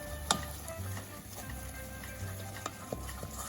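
A butter and flour roux for béchamel is stirred in a pan, making a low, quiet sizzle with soft scraping strokes and a couple of sharp ticks of a utensil against the pan.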